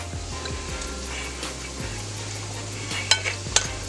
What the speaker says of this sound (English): We're going to stir that up just a little bit.